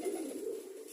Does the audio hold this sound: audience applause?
no